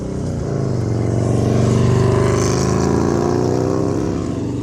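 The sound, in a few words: motorbike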